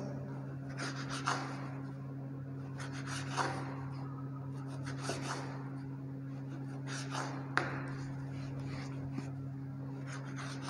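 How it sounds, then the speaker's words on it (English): A knife cuts the crusts off bread slices, producing a series of soft, scratchy rasping strokes at irregular intervals, close and fairly quiet over a steady background hum. "I remove the sides of the breads."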